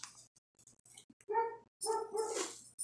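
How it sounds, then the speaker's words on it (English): Mother dog barking outdoors, a few sharp barks at middle distance with short gaps between them, alone with no talk. "mama dog that's barking out there"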